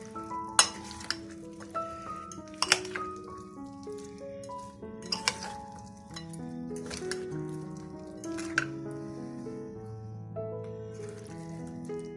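Lemon pickle (achar) being stirred and mixed in a pot, giving soft scraping and clinking strokes at intervals, with a few sharper spoon knocks against the vessel over low background hum.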